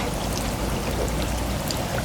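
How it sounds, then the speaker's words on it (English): Battered crappie fillets frying in hot oil make a steady, dense, close sizzle and crackle that holds even throughout without a break. "hear that sizzle."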